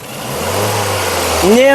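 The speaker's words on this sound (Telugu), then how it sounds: "ఇంజన్ యొక్క నాయిస్ సైలెంట్గా అయితే ఉంది" A 2011 Ford Fiesta Titanium engine runs at a steady, quiet idle, a close low hum throughout, with a brief voice-like tone rising near the end.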